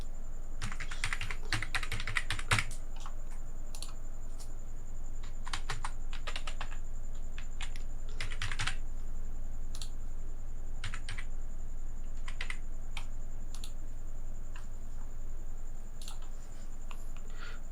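A captcha typed on a computer keyboard comes through as scattered bursts of close key clicks, some rapid clusters and some single taps, over a faint steady background hum.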